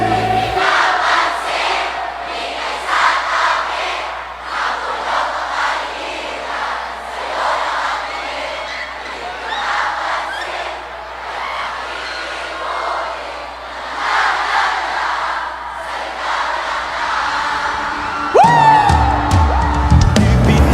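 A large crowd at an outdoor festival concert in General Santos City sings together loudly in a rhythmic, swelling chorus, with cheers and yells rising near the end.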